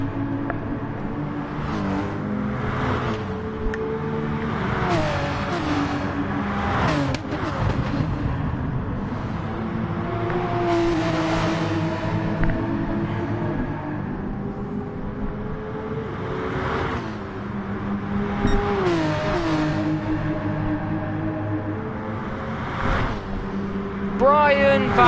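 Sim racing cars in a six-hour GT endurance event drone and rev steadily, with engine pitch rising and falling through gear changes, running continuously under a commentator's voice.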